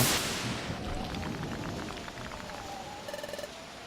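Game rain from Pokémon Mystery Dungeon: Explorers of Sky hisses as a steady, fairly soft wash of falling drops, with faint chiming tones and beeps from the game near the end.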